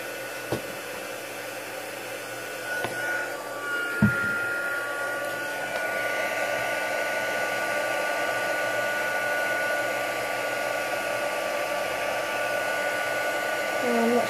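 An embossing heat tool runs steadily to melt embossing powder for card making, a loud continuous blowing whoosh with a couple of clicks near the start.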